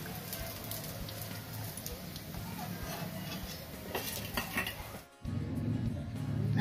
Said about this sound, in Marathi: आता हे काढून घेते मी दुसऱ्या एका प्लेटमध्ये।